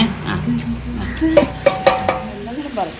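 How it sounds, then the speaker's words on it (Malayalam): A spoon stirs chicken coated in ground masala in a pot for Rauthar dum biryani, giving soft scraping and several distinct clinks against the metal over a low sizzle, close and moderately loud. "നന്നായി ഇളക്ക് മസാലയൊക്കെ അരച്ച് പിടിക്കട്ടെ നന്നായി ഇളക്ക്"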